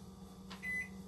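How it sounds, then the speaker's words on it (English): Microwave oven keypad beeping as its kitchen timer is set, a short soft press followed by a clear, fairly loud electronic beep of under half a second, alone over a low steady kitchen hum. "We will do it on the microwave because there's actually a setting on your microwave for that."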